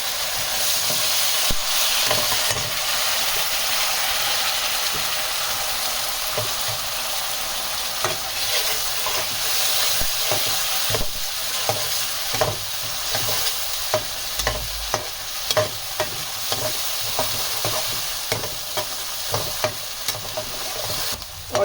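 Tomato and onion paste fries with spices in a pan for chana paneer, a steady loud sizzle with repeated stirring scrapes and clicks throughout, no talking.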